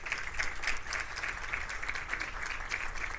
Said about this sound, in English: Get Andrew a big round of applause